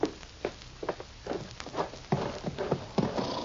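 Radio drama horse hooves clip-clop in a steady walking rhythm of close, distinct hoofbeats that continue through the whole stretch with no talk.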